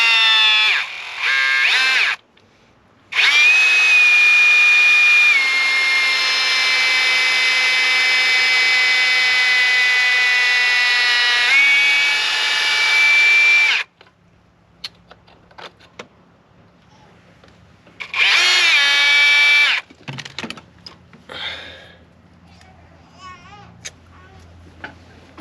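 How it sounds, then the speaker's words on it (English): A power drill bores off-center in a long, loud continuous whine, pauses, then gives a shorter second burst before stopping; brief clatter and voices follow in the quieter stretches. "it's not drilling very center"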